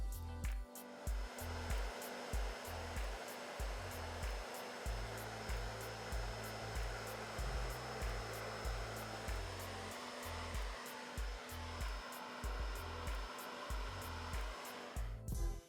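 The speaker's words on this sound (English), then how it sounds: "Now I'm gonna go in and diffuse it with the blow dryer and diffuser attachment." A blow dryer fitted with a diffuser attachment dries curly, wavy hair, giving a steady, close airflow roar that runs without a break, with a faint rhythmic pulsing underneath. No one speaks.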